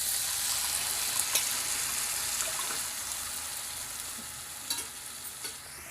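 Curry leaves, ginger and slit green chillies fry in oil for tamarind rice, a continuous soft sizzle broken by a few light stirring clinks and scrapes, with no talking.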